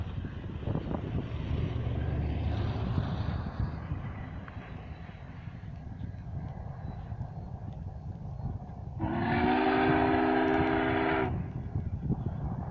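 The Union Pacific 844 steam locomotive rumbles low and steady as it comes to a stop before a bridge, then its whistle sounds in one sustained blast of about two seconds, with a voice talking faintly beneath.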